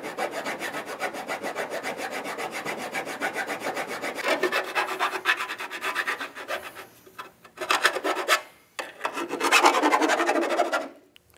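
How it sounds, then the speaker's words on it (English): Repeated rasping strokes of a hand file grinding a weld bump on a Ski-Doo snowmobile intercooler, rhythmic and close, with short pauses between bursts near the end. "file off any irregular bumps that you have in the front of the cooler"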